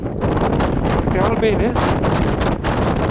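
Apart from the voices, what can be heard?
strong wind on the Col du Galibier mountain pass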